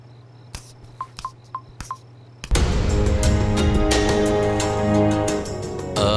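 A telephone is dialed for a call in a Tamil drama scene: a short run of quick separate keypad beeps in near quiet, then a sudden loud swell of background music takes over.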